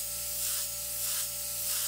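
An airbrush spraying paint for a photorealistic sunset gives a steady, close airy hiss that swells and eases gently in level, with a faint tonal hum beneath and no talking.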